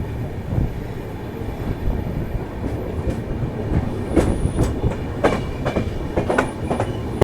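The 12920 Malwa Express rolls along from inside a sleeper class coach, a steady loud rumble of wheels on rails with rhythmic clickety-clack and occasional faint squeals, with no talking.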